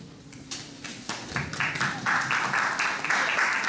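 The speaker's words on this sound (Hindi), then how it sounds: "हाथों को जरा आजादी दे, जोरदार ताली बजाएं" An audience claps at a Christmas celebration in a Punjabi church in New York, scattered claps quickly building into steady, loud applause filling the room.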